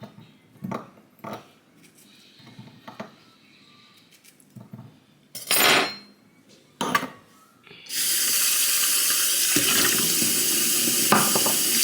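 Dishes are being washed under a running tap in a home kitchen sink, a steady full rush of water that starts about two-thirds of the way in after scattered clinks and handling sounds, with brief bursts earlier.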